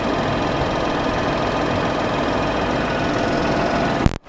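A machine engine runs steadily at close range, a loud continuous rumbling drone with a rapid knocking pulse, then cuts out abruptly at the end.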